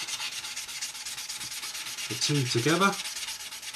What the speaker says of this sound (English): you just keep sanding away until that goes